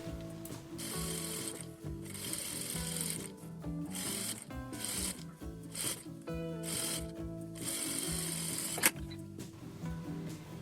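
A sewing machine runs in short bursts, stitching a safety seam along the edge of a folded fabric strip, its quick mechanical whirring stopping and starting close by.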